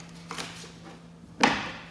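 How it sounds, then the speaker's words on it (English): Storage boxes slide into a DECKED truck bed drawer system on a Jeep Gladiator, giving a short scrape followed by a firmer sliding thud as one settles into place, close and alone. "Boxes slide in"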